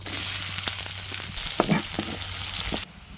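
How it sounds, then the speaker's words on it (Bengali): Chopped onion and green chilli frying in soybean oil for a leafy greens stir-fry, a bright, close sizzle with a few stirring knocks before it cuts off abruptly near the end. "প্রথমে দিয়ে দেবো আমরা সয়াবিন তেল, এরপর দিয়ে দিতে আছি পেঁয়াজ কুচি আর মরিচ কুচি।"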